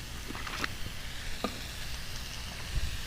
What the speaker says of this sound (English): whenever you're sauteing these squash and zucchini, you just want just a little bit of color